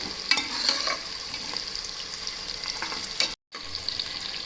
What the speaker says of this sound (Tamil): இப்போ நல்லா ஃப்ரை பண்ணிக்கலாம், ஆனியன் வேகிற அளவுக்கு